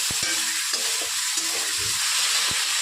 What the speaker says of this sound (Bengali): কালো জিরেটা কয়েক সেকেন্ড ভেজে নেওয়ার পর এর মধ্যে দিয়ে দেব ম্যারিনেট করা কচুলতি।